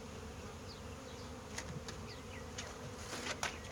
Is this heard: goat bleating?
no